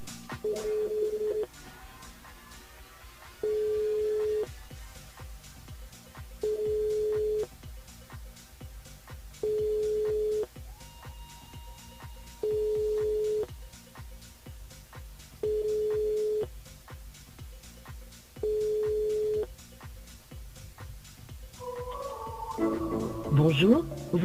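Telephone tones sound while a call goes through to a radio station switchboard, with seven steady, evenly spaced tone pulses over a faint background before a voice cuts in at the end.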